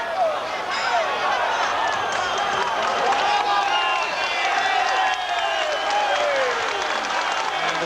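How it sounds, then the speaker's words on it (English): A 1983 boxing arena crowd at a Marvin Hagler championship fight roars and cheers in a steady, sustained wash of noise, with a commentator talking continuously over it. "the crowd now really reacting"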